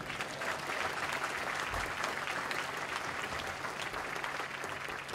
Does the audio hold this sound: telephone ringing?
no